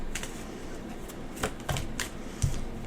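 Tarot cards shuffled by hand in a quiet room, a dry riffling flutter punctuated by a few crisp snaps as the deck is cut, close and fairly soft.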